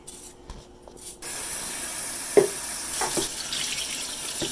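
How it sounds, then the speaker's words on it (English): Russet potatoes get a quick rinse under a running kitchen tap, a steady close rush of water starting after a quieter moment, with a few knocks and splashes as they are handled; no talking. "You're just giving the potatoes a quick rinse."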